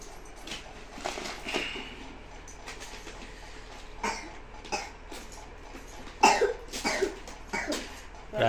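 A person coughs at home in a series of separate coughs, moderately close, with quiet gaps between the bursts and a couple of louder coughs toward the end.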